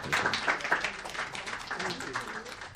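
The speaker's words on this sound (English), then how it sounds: "Please give a big round of applause to our guests" Applause from guests at a press conference, a short spell of crowd clapping at moderate level with some voices mixed in.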